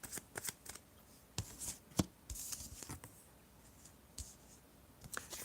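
Tarot cards are shuffled in soft, quick riffles and flicks, with irregular papery snaps and slaps close by at a low level, no voice over them.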